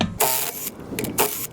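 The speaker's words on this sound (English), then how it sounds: "we're going to use a 17mm socket with our 1/2-inch electric impact" A half-inch electric impact wrench with a 17mm socket spins lug nuts off a 2007 VW Jetta wheel. It gives three loud, close, buzzing rattling bursts in quick succession, with short gaps between them.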